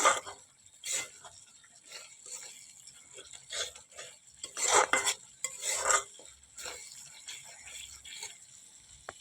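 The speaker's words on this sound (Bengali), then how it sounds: "এবারে ভালো করে মিশিয়ে নেব বা কষিয়ে নেব একটু ভালো করে" A spoon stirs a potato and pointed gourd curry in a pan, giving intermittent scraping and clinking strokes over a faint sizzle, close and moderately loud.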